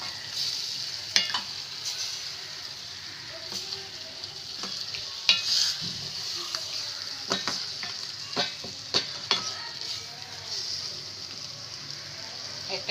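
Rupchanda fish frying in a pan, an even, steady sizzle with scattered spatula taps and scrapes close by, and a voice speaking briefly over it.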